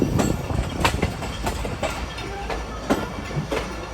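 Hazara Express passenger train with refurbished old coaches running along the track, loud continuous rumble with rhythmic clickety-clack of wheels over rail joints, heard from inside or beside the carriage.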